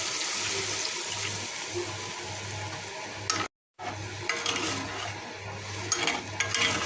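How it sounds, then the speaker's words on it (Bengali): Water pours into a pan of sautéed desi chicken curry with potatoes, giving a steady hissing rush that breaks off briefly and then resumes, alone and fairly close. "আমি এখন সিদ্ধ হওয়ার জন্য পানি দিয়ে দেবো এবং ঝোল থাকবে"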